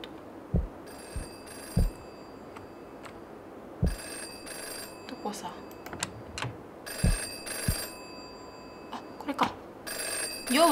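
A video game telephone rings in repeated bursts with short pauses between, accompanied by occasional low thumps and clicks in a quiet background.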